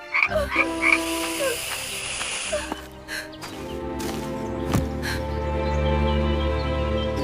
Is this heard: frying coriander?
no